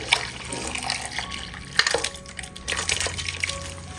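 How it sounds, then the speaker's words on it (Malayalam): Cooked mutton and its cooking water being poured into a pan of sautéed ingredients, a soft continuous splashing pour with faint liquid trickles, quiet and close. "നമ്മൾ വേവിച്ച് വെച്ചിരിക്കുന്ന മട്ടൺ ആ വെള്ളത്തോട് കൂടി തന്നെ നമ്മൾ വഴറ്റി വെച്ചിരിക്കുന്നതിലേക്ക് അങ്ങ് ഒഴിച്ചു കൊടുക്കാം"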